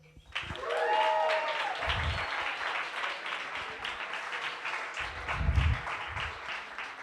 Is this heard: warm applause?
yes